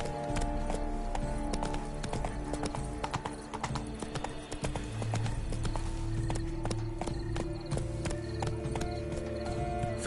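Horse hooves clip-clopping at a quick gallop in the Witcher 3 video game, a continuous loud rhythmic beat over a dense layer of in-game ambience and music.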